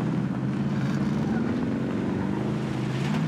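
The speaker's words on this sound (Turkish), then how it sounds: "Helikopter var lan." Helicopter rotor thump from the Call of Duty Warzone video game, a steady low droning hum with faint rhythmic beating that runs continuously through the whole moment at moderate level.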